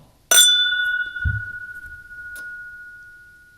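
A single struck tulip tasting glass rings out with a bright, sustained tone that slowly fades over several seconds, with faint handling bumps underneath.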